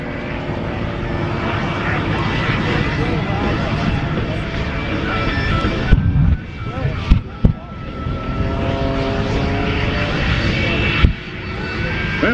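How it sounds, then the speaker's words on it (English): Two propeller airplanes roar loudly and steadily at an air show as they fly head-on toward each other through smoke, their engines droning continuously and close, with brief dips and surges in the sound. "here come the two airplanes coming straight at each other through the smoke"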